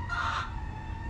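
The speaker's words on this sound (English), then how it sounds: "My chickens are being crazy." Backyard chickens call out in a short raised burst near the start, then settle under a steady low outdoor rumble for the remaining second.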